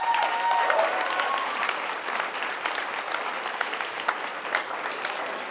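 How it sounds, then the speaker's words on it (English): Wedding audience applauding a speaker's call to welcome out-of-town guests, a dense and steady clapping that fills the whole stretch at close, even loudness. "Let's give us all a round of applause for everybody who's coming from out of town."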